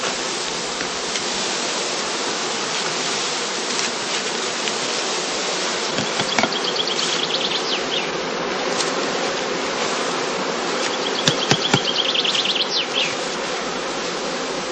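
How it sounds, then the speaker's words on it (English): Honeybee swarm buzzing steadily around heather skeps in a heathland apiary, a dense continuous hum with individual bees zipping close past now and then, no voices. "Second swarm bees are also filled into skeps containing old comb without honey or brood."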